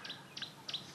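Hadeda ibis chicks give three short, high-pitched calls in quick succession, fairly faint and close by, with no talk over them.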